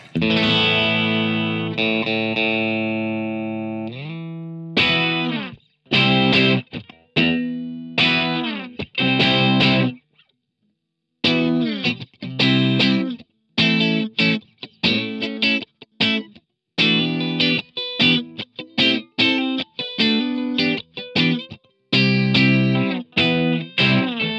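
Heavily distorted electric guitar chugs through a vintage amp's red channel and a V30 speaker: a sustained chord rings out, then palm-muted staccato riffing with short pauses and one brief silent gap.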